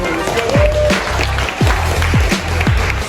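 A crowd applauding a competition winner on the podium at a climbing gym, steady dense clapping throughout, loud and close, with a few low thumps.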